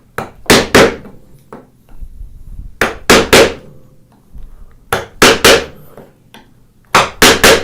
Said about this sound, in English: So now we can put that chisel back where we got it. Tap, tap, and tap, tap.